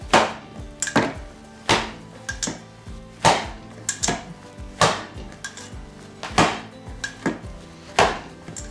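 Chicken mince for lula kebab is slapped and beaten hard against a bowl or board, a roughly regular series of sharp, close thuds about once a second, with no talk over them.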